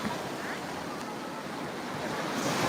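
Waves wash steadily onto the beach at Thiruchendur, where many people lie near the water, as a constant broadband surf roar with some wind buffeting the microphone and no clear break in the noise.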